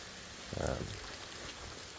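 Steady rain falls at an outdoor off-grid tiny house build site where logs are being set, a continuous soft patter with one brief louder splash or thump partway through.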